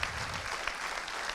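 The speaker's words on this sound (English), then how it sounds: "So if I could please request the audience for a big round of applause" A conference audience claps in a short, steady burst of applause with a moderate crowd texture and no talking.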